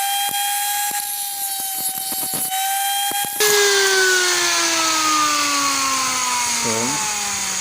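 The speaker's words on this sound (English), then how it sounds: "Let's bring a grinder and we remove this excessive. So you have to grind to put a starting point." An angle grinder cuts a starting point into metal while repairing a stripped thread. It gives a loud, continuous, whining drone that jumps up partway through and then slowly sinks in pitch.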